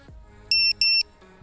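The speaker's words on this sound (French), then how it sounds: "il fait 2 bips très forts" A Vifly Finder 2 standalone drone buzzer, mounted on a Sector 5 V3 quad, sounds two loud, piercing electronic beeps in quick succession, each about a quarter second long, over a faint background hum.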